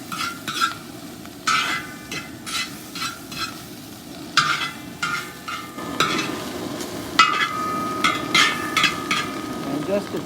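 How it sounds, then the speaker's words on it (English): Shrimp fried rice gets a quick stir with sesame oil in a hot pan. A soft, steady sizzle runs under repeated scraping and clinking utensil strokes against the pan, close and moderately loud. "Give that a quick stir."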